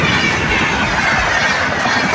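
A train rolling past a railway crossing gate, a dense continuous rumble and rattle, loud and close throughout with no voices.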